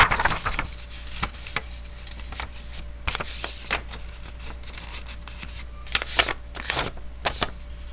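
Paper being folded by hand while decorating a folio, with scattered crinkles, rubs and creases spread over several seconds, fairly close and quiet against a steady low hum.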